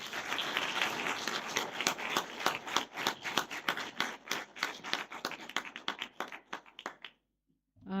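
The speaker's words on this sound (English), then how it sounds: "give Dr. Phosa another round of applause for that presentation." Audience applauds a book presentation of a political memoir, with dense, loud clapping that runs for about seven seconds, then stops abruptly into near silence.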